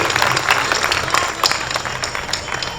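A comedy show audience applauds, a dense patter of many hands clapping with sharp individual claps poking through, fairly loud and continuous.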